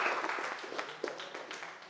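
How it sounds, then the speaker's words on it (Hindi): Audience clapping at a political stage event for a party leader, a short burst of scattered applause with a few distinct sharper claps, fairly quiet and fading slightly over two seconds. "एक बार जोरदार ताली करते हैं।"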